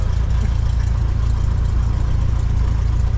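A training aircraft's piston engine idles on the stand just before shutdown, giving a loud, steady low-pitched drone with a throbbing pulse that carries on unchanged and alone.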